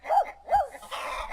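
In a Unity game scene near a chicken coop, a dog gives two clear barks at moderate loudness, followed by a softer wash of background noise.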